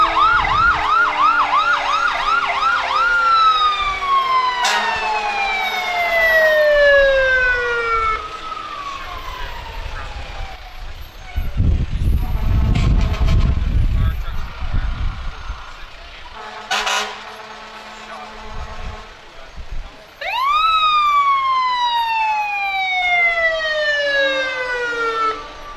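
City of Langston Fire Department trucks rolling through a parade, their sirens whooping and wailing in repeated rising and falling sweeps, broken by a deep rumble and a loud horn blast, with crowd noise underneath.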